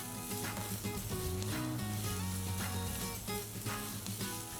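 Paneer bhurji sizzles in a hot pan as it is stirred, a steady close frying hiss, with a low tonal music bed playing underneath throughout.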